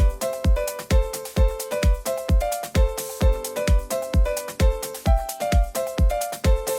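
A melody doubled by a harmony line a third above, played as a steady pulse of plucked, punchy notes over a thumping low beat, moving in parallel with no talking.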